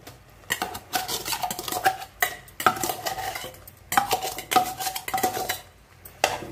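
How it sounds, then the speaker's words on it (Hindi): Homemade khoya being mixed in a pan, close metallic scraping and clinking of a spoon against the pan in uneven bursts with short pauses, no talking. "तो इसको भी अच्छे से मिक्स कर लूंगी इसको"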